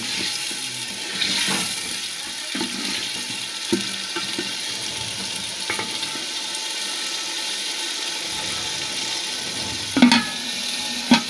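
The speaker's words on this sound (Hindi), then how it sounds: "आलू को अच्छे से भून लूँगी" Potatoes fry in a pan on a home stove, a steady close sizzle running throughout with a few sharper clinks and stirring knocks, and no talk.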